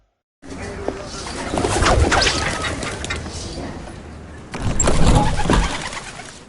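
Pigeons coo in Sultanahmet Square, Istanbul, in a TV commercial, with soft repeated cooing and wing flutters over a busy outdoor background that swells twice.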